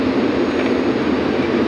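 Steady, loud broadband engine roar inside a Star Air passenger airplane in flight, climbing above a city into the clouds, a continuous cabin drone with no breaks and no talking.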